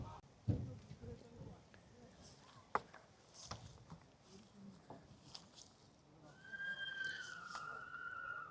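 Horses clip-clop on the ground at a tent pegging event in the UK, their hoofbeats scattered under crowd chatter and someone talking, with a horse's whinny toward the end.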